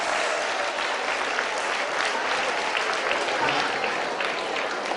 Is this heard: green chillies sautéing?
no